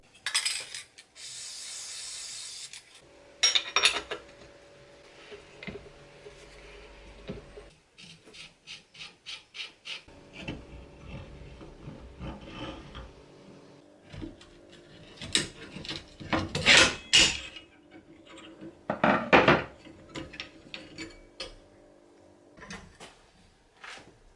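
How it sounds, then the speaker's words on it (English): A Piaggio Ciao 65cc moped wheel is taken apart by hand, with irregular metallic rattles, ratcheting clicks, scraping and clinks of parts coming in bursts and pauses, heard up close with no talking. "Now while those bolts are soaking in, I'm gonna disassemble the wheel."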